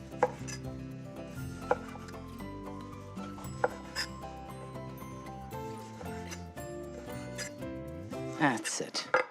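A knife slices through bacon on a cutting board with a run of soft, irregular chopping taps close by, while a person talks over the cutting.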